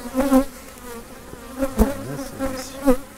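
Honey bees buzz close by during a hive inspection as frames of honey and bee bread are handled, with a wavering drone that rises and falls as individual bees pass near.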